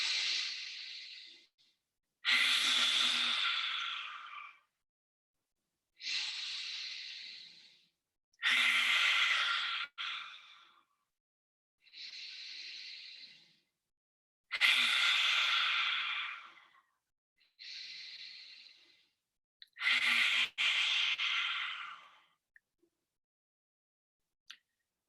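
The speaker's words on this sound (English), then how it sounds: "inhale through the nose and then out the mouth." Slow, deliberate breaths in a guided Ayurveda breathing exercise, with long airy inhales through the nose and exhales out the mouth repeating about eight times in an even rhythm, close and clear, with silent pauses between.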